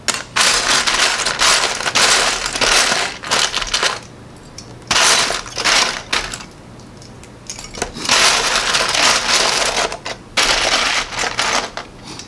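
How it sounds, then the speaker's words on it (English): Loud, continuous clattering and rattling of Lego bricks being rummaged and shuffled, close up, in long bursts with brief pauses. "sorry about the Lego noise. Probably loud."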